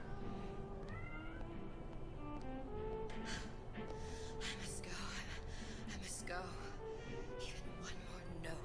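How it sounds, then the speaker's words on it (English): A cat meows faintly in the background behind continuous video game sound and someone talking over it. "Sorry if you hear the cat in the background."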